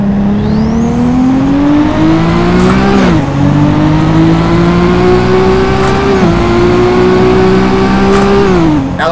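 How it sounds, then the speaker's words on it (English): Nissan S15 tuned to 460 hp in Assetto Corsa pulling hard in second gear, a loud steady engine drone climbing in pitch with brief dips at shifts, close and continuous with no talk. "Let's get a little second gear pull,"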